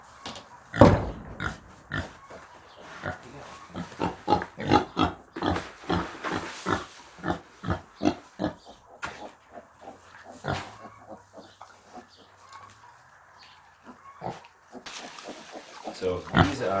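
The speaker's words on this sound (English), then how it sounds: "let me show you our pigs" Farm pigs grunting and oinking in rapid repeated bursts, close and fairly loud, some overlapping, with a person talking at times among them.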